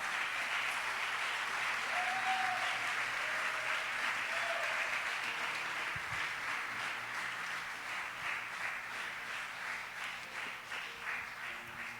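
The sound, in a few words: congregation applause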